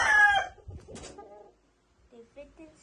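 Chickens in a double quadruple wire cage, with a rooster crowing loudly up close at the start, followed by scattered clucks and short calls, then quieter clucking after a pause.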